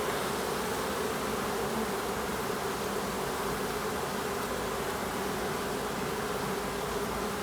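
A steady, dense buzzing of many honeybees at the hive during a spring inspection fills the whole stretch, constant and close, with no voices.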